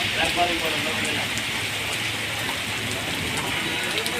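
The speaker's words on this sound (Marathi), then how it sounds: "सोलापूर शहरात आज सायंकाळी पाच वाजण्याच्या सुमारास अचानक अवकाळी पाऊस झाला" Sudden heavy unseasonal pre-monsoon rain in Solapur city in the evening, a constant close roar of drops hitting surfaces, steady and loud throughout.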